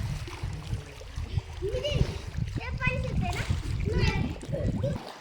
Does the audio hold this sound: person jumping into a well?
yes